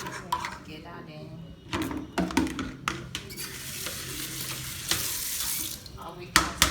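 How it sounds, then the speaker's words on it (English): Indomie noodles for a chicken noodle dish with greens are stirred and tossed in a bowl, giving wet, sticky squelches and utensil clinks against the bowl, close and uneven, with a voice talking now and then. "Mix it together"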